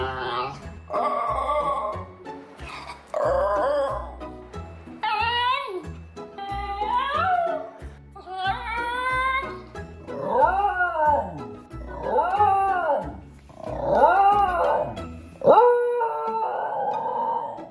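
A dog yodels and howls in a series of rising and falling vocal bursts, wavering and whiny, repeated close by with short pauses between.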